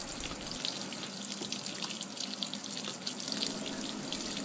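Hot and cold supply water pours steadily into a twin tub washing machine on its first wash inside a container home, a continuous hissing splash with faint drips, close and unbroken.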